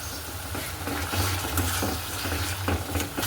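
Meat masala with Kashmiri chili powder being sautéed in a pan, giving a steady close sizzle with repeated scraping stir strokes and a low hum underneath, with no voices.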